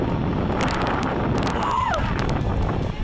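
Strong storm wind roars steadily against the microphone throughout, with constant broadband rumble and gusting buffeting, no pauses.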